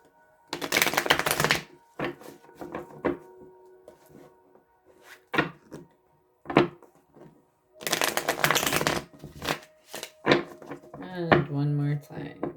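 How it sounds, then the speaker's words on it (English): Several bursts of cards being riffled and shuffled, each a dense rapid flutter, separated by quieter taps and handling, with a voice briefly at the end. "This deck is so difficult to shuffle."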